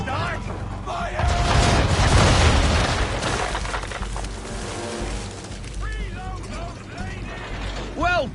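Naval cannons on a sailing ship fire round shot in a broadside during a video game battle, a loud rolling burst of booms near the start that fades into creaking ship noise, with chirpy effects and voices later.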